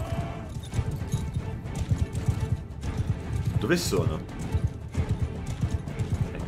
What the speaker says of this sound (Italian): Parte il cavallo.